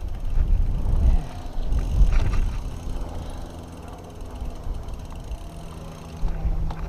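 A Haibike XDURO DWNHLL Pro electric mountain bike rolls downhill, a loud, close, rumbling rush of tires and wind with rattling bumps, easing slightly midway before picking up again.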